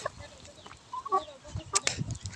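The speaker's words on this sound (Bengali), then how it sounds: "আমি আর পাখিকে যখন আমি খাবার দিতে আসি তখনই আমার পিছিয়ে পিছিয়ে এই মুরগিগুলো এসে অনেক বিরক্ত করে" A few short, fairly faint clucks from a small group of chickens, scattered across a couple of seconds in a quiet outdoor setting.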